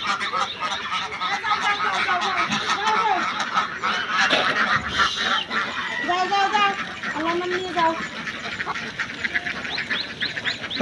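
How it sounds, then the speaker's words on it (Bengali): A farm flock of ducks arrives honking and quacking in a steady, busy chorus, with many overlapping calls that are fairly close and continuous. "এই যে হাঁসগুলো আসতেছে"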